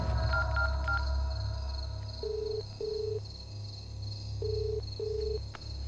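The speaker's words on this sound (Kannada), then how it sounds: "ಮನೆಯವ್ರಿಗೊಂದು ಫೋನ್ ಹಾಕೋ ಹಾಕೋ" A telephone number is punched in during a film scene: a few short keypad tones, then two pairs of steady dialing beeps evenly spaced over a low background hum, with no one talking.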